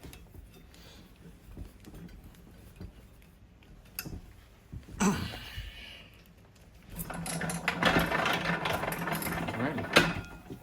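A boot resoling finishing machine wheel spins up on a pair of Tecovas boots, a steady broadband whir that grows louder over the last few seconds, with talk and workshop clatter earlier.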